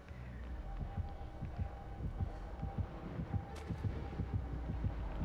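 Thumping killer heartbeat from the video game Dead by Daylight, a steady throbbing pulse repeating through the clip, loud and continuous with a low hum beneath.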